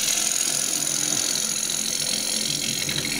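A bowl gouge cuts green wood on a lathe with a continuous, dense shearing whir over the low hum of the spinning machine, steady and close throughout with no speech.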